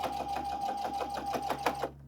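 An SE 2000 sewing and embroidery machine stitches a sweatshirt, its needle pounding in a fast, even mechanical rhythm with a steady motor hum, loud and close, stopping abruptly near the end.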